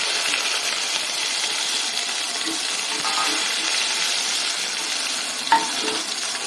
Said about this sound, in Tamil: வெங்காயத்தை போட்டுக்கிறேன் வெங்காயத்தை வதக்கிறேன்